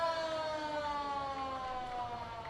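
An ambulance siren wails steadily and fairly loud through a Syttende Mai street parade, its wavering tone sustained over faint crowd noise.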